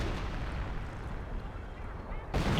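In Company of Heroes, an off-map artillery strike lands on a machine-gun position, heard as a dense, rumbling barrage of distant booms that swells again at the end.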